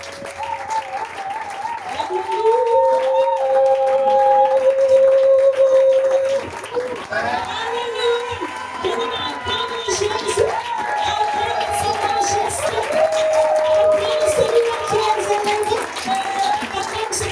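A church congregation applauds and cheers for a long stretch, dense clapping and raised voices filling the hall with a sustained music-like tone running beneath, loud and continuous throughout.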